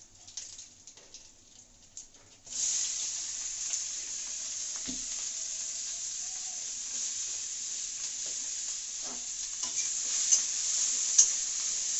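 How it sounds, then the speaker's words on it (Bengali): Taro leaves (kochu shak) go into a hot pan and sizzle steadily once added after a quieter opening. Occasional stirring scrapes sound close, and faint bird calls are in the background. "এখন আমি কচু শাকটা বসাচ্ছি।"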